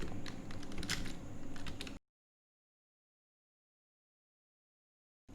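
Computer keyboard typing Python code, a short quick run of close key clicks for about two seconds, then silence.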